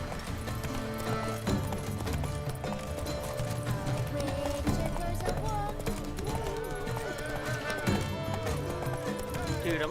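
A horse gallops with steady hoofbeats and whinnies in The Witcher 3 video game, the clip-clop running continuously under game music while a player talks over it.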